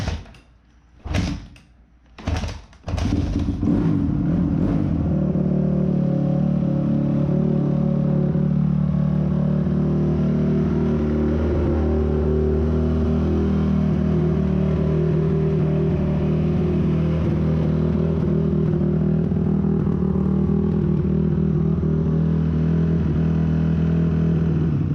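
A Honda CRF250 dirt bike with a newly installed crank assembly, cold and on choke, gives a few short cranking bursts before catching and then settles into a loud, steady running drone.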